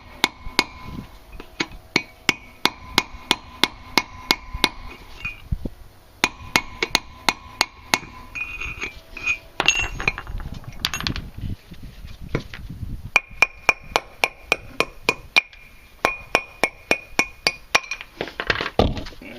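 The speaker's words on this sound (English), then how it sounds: "Tapping the wheel studs out so they don't get destroyed. Pounding on this thing." Sharp metallic hammer blows strike wheel studs on the rear wheel hub of a 1999 Suzuki Swift, or Geo Metro, during a wheel bearing change. The blows come in rapid close-up bursts separated by short pauses, ringing with a clinking steel tone.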